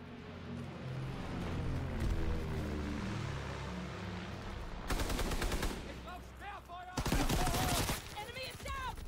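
Bursts of rapid automatic gunfire and single shots crack loudly in a Call of Duty: WWII multiplayer match, with broad dense volleys in the second half over constant battlefield noise.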